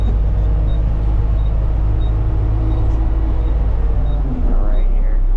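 A front-load garbage truck engine runs with a loud, steady low rumble close by, and a brief hiss and shift in tone near the end.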